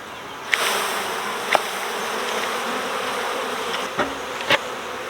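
A steady, close buzz of honeybees around a hive fills the clip, broken by a few sharp clicks or knocks, with no talking.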